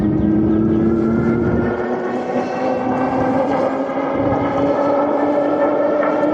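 A 1000-watt Tamobyke electric bike runs on throttle, its motor giving a steady whine with wind rushing past, loud and close throughout.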